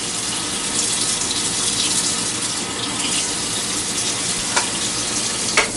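Water runs steadily from a kitchen sink tap, a loud continuous hiss and splash with no pauses, close by and alone, with a faint clunk near the end.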